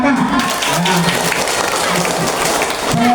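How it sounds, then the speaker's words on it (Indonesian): A crowd claps for a boy named Raka on a live Indonesian show after he recites the constitution's preamble, a steady patter of applause blended with voices and a few tonal background sounds. "tepuk tangan buat Raka"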